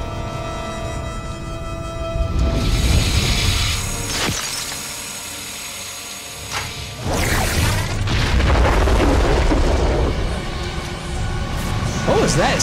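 A heavy booming blast with shattering, crashing debris, loud and close, followed by rumbling noise and voices reacting.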